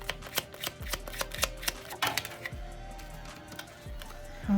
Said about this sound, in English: let me shuffle these some more